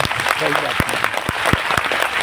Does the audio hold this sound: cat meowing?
no